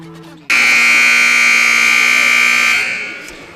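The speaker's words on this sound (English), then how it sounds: "Just in time for you to hear the buzzer." A long loud electronic scoreboard buzzer sounds at a boys' high school basketball game, sustained for over two seconds before fading into arena ambience.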